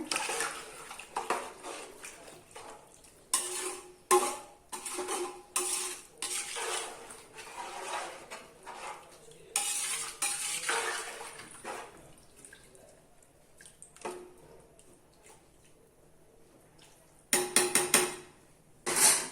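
A spoon scrapes and clinks against a metal pot while stirring soaked rice for biryani, in irregular bursts, with wet stirring sounds and quieter pauses between strokes.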